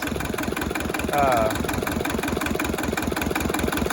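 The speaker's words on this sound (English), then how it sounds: "It's got a little bit of a rough idle. I don't think it should idle this rough." A Hinomoto tractor engine idling roughly and unevenly, its loud close chugging pulse steady throughout with a slight surge partway, and a voice talking over it.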